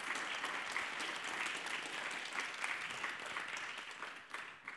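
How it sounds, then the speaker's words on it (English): An audience at a climate conference session applauds, giving a dense, steady roar of clapping throughout, heard from within the hall at moderate loudness. "Give her a round of applause, please"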